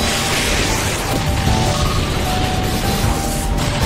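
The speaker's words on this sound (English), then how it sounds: "Annihilated by explosion!" A loud, sustained blast booms from the Explosion attack in Pokémon Battle Revolution, a dense crashing rumble that fills the short stretch without a break.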